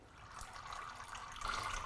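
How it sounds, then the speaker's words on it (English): Automatic transmission fluid draining and bubbling out through an opened valve on a car hoist, a faint, close liquid gurgle that swells slightly toward the end, with no talk over it. "you can see it sort of bubbling there because it's flowing down."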